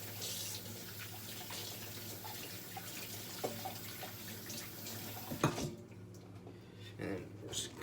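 Tap water runs steadily into a kitchen sink while hands are wetted for kneading bread dough, a continuous splashing stream for about five seconds that then stops, leaving a few faint drips and handling sounds.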